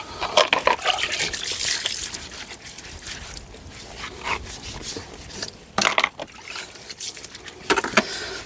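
A Rover 75 car gets a quick wash with water, giving close splashing and rubbing sounds in uneven bursts with no talk.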